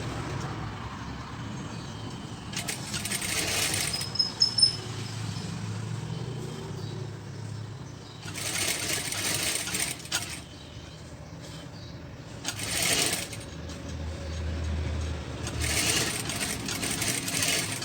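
A sewing machine stitches a fabric face mask in bursts of close, fast mechanical whirring, four runs separated by quieter pauses.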